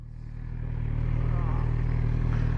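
A Suzuki GSX-R750 sport motorcycle engine holds a steady, close droning rumble that builds over the first second and then stays even and loud.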